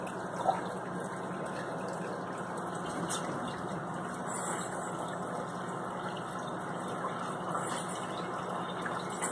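Liquid holding brine shrimp is poured into a filter at a kitchen sink, giving a steady wash of running, splashing water throughout with no talk.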